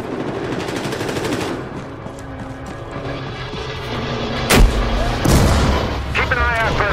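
In the Battlefield Hardline beta, rocket fire and two heavy explosions punch through a continuous rumble of gunfire and battle noise, loud and close.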